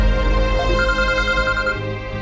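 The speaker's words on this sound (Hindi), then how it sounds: "फोन आ रहा है बार बार" A synthesized phone ringtone plays a repeating melodic tune, clear and steady, with no voices present.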